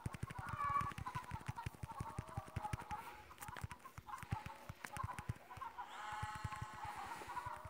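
Chickens cluck in the farming game Egg Inc, a steady rapid stream of overlapping fowl clucks and calls with a brighter cluster of bird chatter near the end, no talking.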